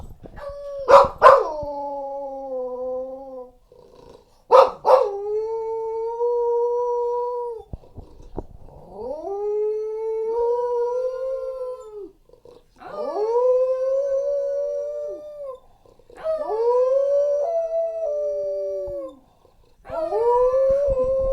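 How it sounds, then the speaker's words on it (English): A dog howls in long, drawn-out wails, several separate howls with short breaks between them, loud and close with no talking over it. "Do you need to howl for a second? Do you want to howl?"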